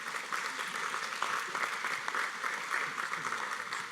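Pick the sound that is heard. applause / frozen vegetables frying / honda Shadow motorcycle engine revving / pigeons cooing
applause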